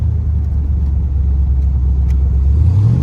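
A 1967 Chevrolet Corvette's engine drones in a deep, steady rumble while driving, then climbs in pitch near the end as it revs up. It is heard close and loud with no speech.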